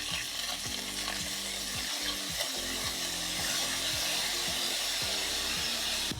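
Loud, steady sizzling of chopped garlic and chicken thighs in a hot pan deglazed with teriyaki sauce, with repeated scraping and stirring strokes cutting through the crackle; no voices.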